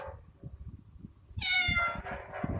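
A cat meows once, loud and close, a drawn-out wavering cry over soft background rustling.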